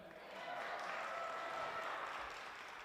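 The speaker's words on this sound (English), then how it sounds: "You can clap, go ahead." Audience applause at a live show swells within the first half-second and holds as a steady, even wash of clapping, heard from a distance and fairly faint.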